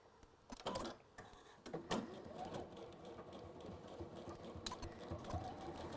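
Sewing machine stitching a seam in fabric, a quiet irregular whirring run with a few sharp clicks and clatters, fairly close and faint, no voices.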